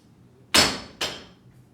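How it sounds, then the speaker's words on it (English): A hammer dropped onto a floor lands with one sharp, loud metallic impact and a quick bounce about half a second later, each decaying fast in a quiet room. "If I drop a hammer,"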